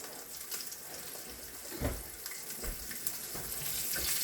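Cheesy potatoes sizzle and fry in a pan as they are flipped, giving a steady hiss punctuated by a few low thumps and scrapes from the turning.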